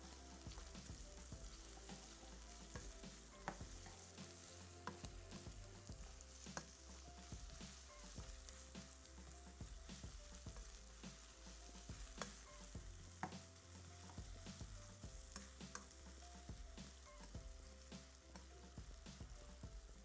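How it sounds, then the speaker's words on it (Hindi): Food fries steadily in oil in a pan, a continuous sizzle with occasional stirring scrapes and clicks, fairly quiet and unbroken by any voice. "और इसको हमने खूब अच्छी तरीके से फ्राई कर लेना है।"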